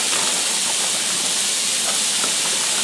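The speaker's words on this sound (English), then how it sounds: "Our water is boiling over off to the side." A stovetop pot of water boils over, giving a steady, loud hiss and sizzle with faint bubbling, nearby and constant throughout, no talking.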